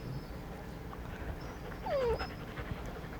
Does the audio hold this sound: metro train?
no